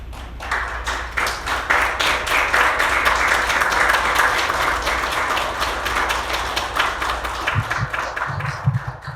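An audience at a seminar held at a Sejong train station applauds in sustained, dense clapping that rises and holds loud, then thins slightly toward the end.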